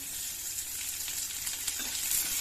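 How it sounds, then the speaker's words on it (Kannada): Curry leaves and onion fry with peanuts in hot oil for a maize chivda, a continuous close sizzle with faint stirring clicks and no speech. "ಫ್ರೈ ಆದ ನಂತರ ಕರಿಬೇವು ಸೊಪ್ಪು ಈರುಳ್ಳಿ ಈರುಳ್ಳಿ ಹಾಕೊಂಡ್ಬಿಡಿ"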